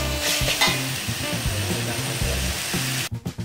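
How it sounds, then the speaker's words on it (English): Frog stir-fry being stirred in a hot pan with fish sauce, a loud steady sizzle of frying with repeated scraping strokes of the utensil, close up, ending abruptly. "And then we stir it well."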